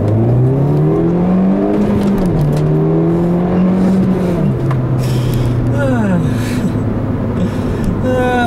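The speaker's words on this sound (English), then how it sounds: "Alright, so I'll leave you guys a nice little acceleration here." A turbocharged car accelerates hard through several gear changes, the engine note climbing and dropping with each shift, loud from inside the cabin, with turbo whooshes and a voice briefly heard.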